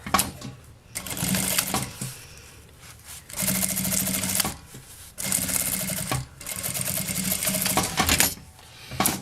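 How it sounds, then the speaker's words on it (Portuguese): A sewing machine stitching the lining of a small cosmetic case, running in several rapid mechanical bursts of a second or more, separated by short pauses, close and clear. "coloca aqui pontinha com pontinha e passa uma costura com um pé de máquina"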